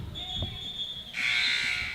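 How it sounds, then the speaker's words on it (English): A loud electronic buzzer sounds at a high school girls' basketball game, blaring steadily across the gym for its second half after faint crowd murmur and a thin tone. "Buzzer's going to go off."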